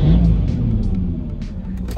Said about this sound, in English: I'm just gonna give it a rev and see if you can pick it up.